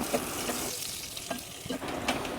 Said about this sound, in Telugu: ఇందులో 2 పచ్చిమిర్చి వేసుకుందాం